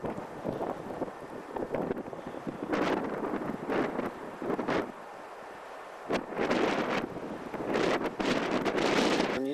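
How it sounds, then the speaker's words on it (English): Gusty wind buffets a microphone at a high mountain viewpoint around 8,000 feet, coming in repeated roaring bursts with brief lulls between, close and rumbling, with no talk. "It's a bit blustery up here again."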